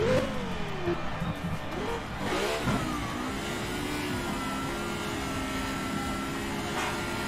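A Lexus LFA engine in the Shift 2 racing video game revs hard with rising and falling pitch, then settles into a steady, loud drone that continues throughout.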